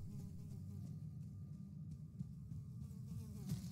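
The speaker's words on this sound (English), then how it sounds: "Definitely a wasp out here." A wasp buzzes outdoors in a low, steady drone, faint and somewhat distant, continuing for several seconds with slight wavering in loudness.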